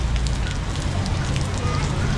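Rain falls on a house under ceiling renovation, a dense, steady hiss and patter that stays constant and fairly close throughout the brief span.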